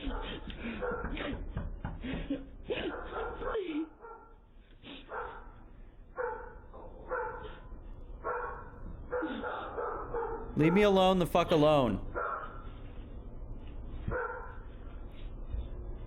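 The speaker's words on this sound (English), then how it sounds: "She's got the fucking dog barking." A dog barks repeatedly in short bursts throughout, mixed with a person speaking and a loud yelp-like outburst midway, heard through a doorbell-style camera.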